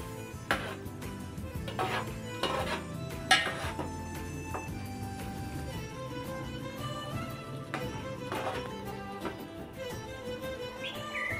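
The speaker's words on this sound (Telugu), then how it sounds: "ముక్కలు తునకుండా చిన్నగా కలుపుకోవాలి." Light clinks of a spoon against a metal pot while raw mango fish curry is stirred gently, soft scraping and occasional taps over a background of music, no talk.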